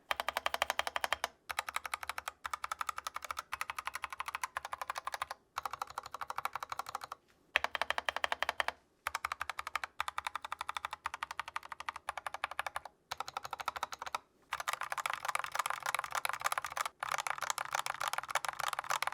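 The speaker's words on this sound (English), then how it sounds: "Let's take a listen to the lubed and unlubed sound test on a board" Lubed mechanical keyboard switches mounted in a board clatter in fast continuous typing bursts, crisp and close, with brief pauses between runs.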